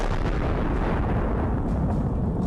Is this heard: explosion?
yes